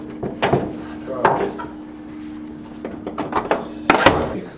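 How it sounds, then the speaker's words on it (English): A door being shut in an office, several wooden thunks and knocks over a few seconds, close and moderately loud amid low room hum and some movement. "You want to shut that door behind you?"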